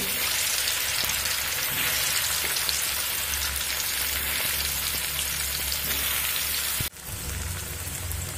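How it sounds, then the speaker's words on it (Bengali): Potatoes fry in hot oil until reddish-brown, a constant dense crackling sizzle that sounds almost like heavy rain, cut off abruptly near the end and then resuming at a slightly lower level. "এবার আলুগুলো লাল লাল করে ভেজে নেব।"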